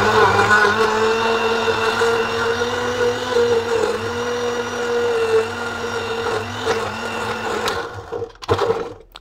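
A blender blending vegetables with tap water for homemade fish food whirs loudly and steadily, close by, its motor pitch wavering as it chops, then winding down with a few clunks at the end.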